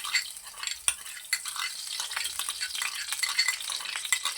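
Bottle gourd kebabs fry in ghee, a steady crackling sizzle with occasional sharp clinks and scraping stirs, close and moderately loud throughout.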